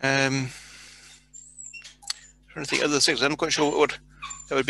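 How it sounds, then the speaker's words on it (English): A dog in the background whimpers and yips with a high, wavering cry in brief bursts between stretches of someone speaking during an online conference talk, sitting low beneath his voice. "pardon the dog in the background."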